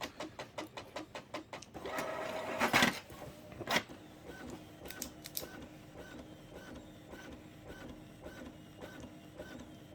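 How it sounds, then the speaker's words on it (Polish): Rhythmic mechanical clicking of a Brother DCP-J100 inkjet printer printing a test page, its print head shuttling back and forth, with a louder whirring burst early on, then quieter repeated ticks. "Teraz drukarka nam wydrukuje wzór testu."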